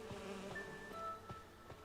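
Bees buzzing in the video game Identity V, a steady insect drone with a few brief thuds, over continuous game background sound.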